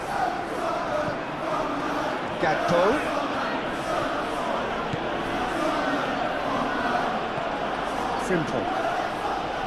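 Stadium crowd noise from a Premier League match between Tottenham Hotspur and Liverpool in the football video game PES 21, a steady roar and murmur that swells in places and runs under commentary throughout.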